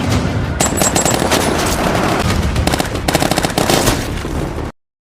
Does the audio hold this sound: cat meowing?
no